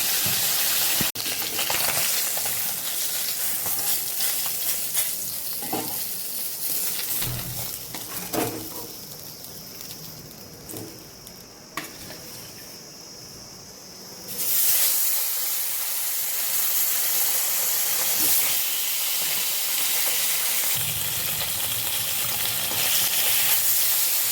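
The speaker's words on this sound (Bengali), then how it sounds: "আমার তেল গরম হয়ে গেছে কড়াইতে তেল দিয়েছিলাম এবার মাছ এক এক করে দিয়ে দেব" Large bata fish fry in hot oil in a wok, a continuous close hiss and crackle of sizzling that dips briefly midway and then returns strong and steady, with no talking.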